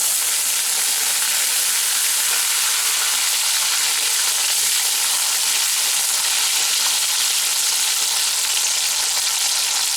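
Potatoes frying in hot mustard oil in a wok, a loud, dense and continuous sizzle with no pauses, close up and with no talking.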